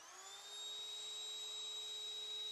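Electric pump inflating an air mattress inside a Tesla Model Y: a steady, high-pitched motorized whine that starts and holds at an even level, fairly quiet, with no voices.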